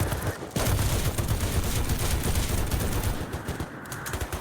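Turret gunfire in a multiplayer shooter game rattles in a dense, continuous burst of rapid shots, loud and close, running almost the whole moment before tailing off.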